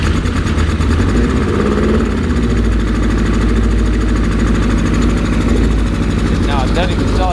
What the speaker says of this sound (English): Now it doesn't even sound like it's firing on all 4 cylinders.